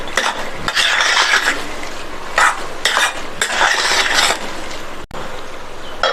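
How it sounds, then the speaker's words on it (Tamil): Rava upma being stirred in a metal pan after ghee-roasted peanuts go in, bursts of scraping spoon strokes against the pan with light sizzling and a sharp clink near the end. "வேர்க்கடலையை சேர்த்துட்டு நல்லா ஒரு தடவை மிக்ஸ் பண்ணி விட்டுட்டு"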